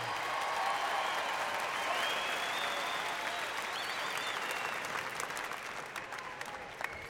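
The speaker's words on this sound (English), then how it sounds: "Thank you for that small round of applause." A comedy show audience applauds steadily for several seconds, a dense wash of clapping that gradually thins out toward the end.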